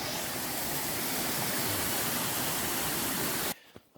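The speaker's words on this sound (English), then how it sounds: "These little mini waterfalls are cool." Small mini waterfalls in a forest stream pour in a steady, loud, broadband rush of water that fills the scene for about three and a half seconds, then cuts off abruptly into near silence with a few faint knocks.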